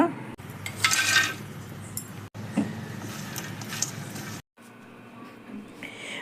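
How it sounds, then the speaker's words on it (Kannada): A spoon clatters and scrapes in a pan as roasted makhana is tossed with ghee and masala, with busy metallic stirring and brief pauses, close and fairly loud. "ಈಗ ಹುರಿದಿಟ್ಕೊಂಡಿರೋ ಮಖಾನ ಇದಕ್ಕೆ ಹಾಕಿ ಮಿಕ್ಸ್ ಮಾಡ್ಕೊಳ್ಳೋಣ"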